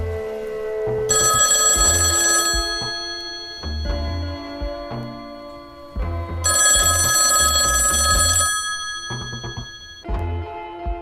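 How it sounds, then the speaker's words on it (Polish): A telephone in a public phone booth rings on a sunny day, two long bursts of bright electronic ringing separated by a pause, loud and close with no voices. "Przechodziłem sobie pięknego słonecznego dnia koło budki telefonicznej, gdy nagle zaczęła dzwonić."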